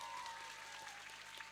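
Audience applause for santri at an Islamic sermon, a steady wash of clapping from a crowd that holds evenly through the moment without voices rising above it.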